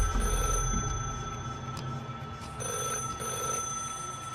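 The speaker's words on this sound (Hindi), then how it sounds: "अनु को एक लैंडलाइन के बजने की घंटी सुनाई दी जो उसी स्टोर रूम से आ रही थी।" An old landline telephone bell rings in a store room, a steady trilling ring that is moderately loud over a low background hum, with no speech.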